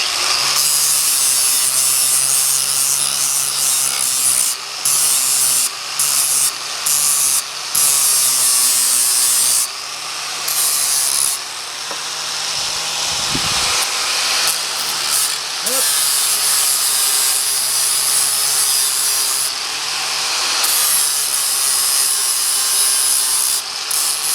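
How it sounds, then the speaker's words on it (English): A tool grinds the edge of a body mount on a four-wheel-drive Daytona, a harsh, loud, sustained abrasive rasp with brief stops and restarts. "Grind that edge, and the other on the other side."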